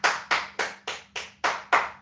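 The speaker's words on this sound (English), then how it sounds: "Because you'll start hearing the clapping." Rhythmic handclaps in a song, seven crisp, evenly spaced claps at a steady moderate tempo, close and prominent with little else around them.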